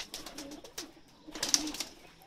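Soft cooing of a Salara pigeon, a Pakistani breed, in a loft, with a few faint low calls and light bird chatter at moderate distance, no voices.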